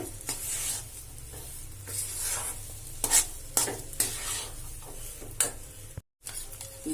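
Shira is stirred with ghee in a pan, a steady close scraping and sizzling with a few sharper strokes, briefly cut to silence near the end, with no voices.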